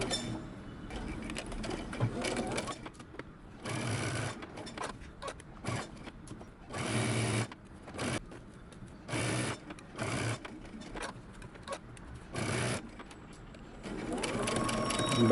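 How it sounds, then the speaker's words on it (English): A sewing machine stitches a shirt collar seam in a series of short bursts with brief pauses between runs, close and moderately loud, with faint background noise in the gaps. "we're going to stitch this down using 5/8 of an inch seam allowance"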